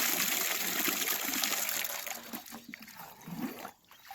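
Water rushes steadily out of a field through a siphon pipe on a farm, a loud continuous gushing and trickling flow that softens and sputters toward the end.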